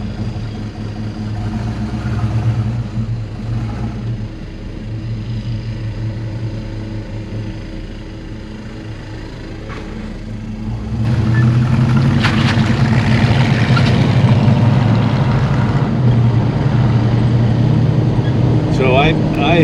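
Steady engine rumble from a 1973 Pontiac Trans Am on a test drive, heard from inside the car, growing louder and fuller partway through as the car picks up speed.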